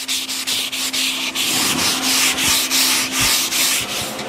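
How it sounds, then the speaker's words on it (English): Steady, rhythmic scraping of a sanding sponge on a wooden chair, close up, repeated strokes with a faint constant hum underneath. "we'll hit it with the sanding sponge, blow it off"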